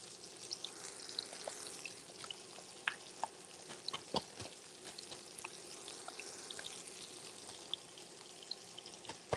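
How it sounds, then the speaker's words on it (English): Chicken dredged in cassava flour sizzles steadily in hot frying oil, a dense close crackle with scattered sharper pops throughout, no voices. "can you guys hear the sizzling?"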